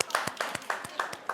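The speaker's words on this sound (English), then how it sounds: "clap if you love them" A TV talk-show studio audience claps in a sparse, steady rhythm of about eight sharp claps, fairly faint, with a voice speaking over them.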